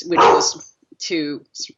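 A dog barks a couple of times nearby, loud and sharp, mixed in with someone talking over a Skype call.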